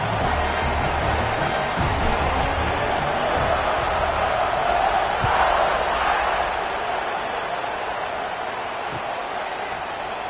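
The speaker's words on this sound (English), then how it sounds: "this crowd is feeling themselves after that last drive" Stadium crowd in Madden 26 football roaring in a broad, steady wash of cheering that swells slightly midway, heard from a distance with commentary over it.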